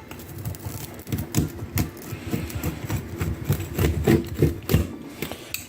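A knife sawing through a baked cheese pizza, with a rapid, irregular run of crunchy crust crackles up close that continues steadily throughout.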